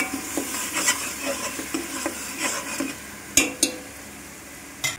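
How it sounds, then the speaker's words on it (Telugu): Ground masala paste for a broiler chicken gravy curry is stirred steadily in a cooking pan, giving repeated soft scraping swishes with a faint sizzle, plus a couple of sharper utensil clanks against the pan near the end. "మెత్తగా ఉంటది కాబట్టి మనం తిప్పుకుంటూనే ఉండాలి, లేకపోతే అడుగంటేస్తుంది"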